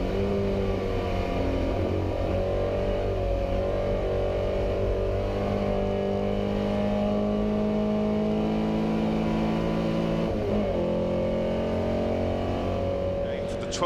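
Vintage race cars, including a Jaguar and a Porsche 356, race at Goodwood Revival with a steady, loud engine drone. A commentator talks continuously over the motors, and pitch shifts mark cars changing gear.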